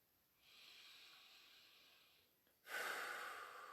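Slow breathing during a guided meditation-style exercise: a soft, airy inhale lasting about two seconds, then a louder, fuller exhale, close and alone with no talk.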